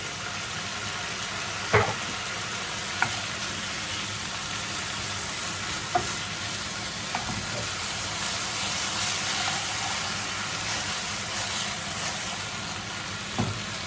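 Tomatoes sear in a hot pan for a Vietnamese noodle salad, a loud, continuous sizzle broken by occasional sharp clicks and scrapes of stirring, with no talking.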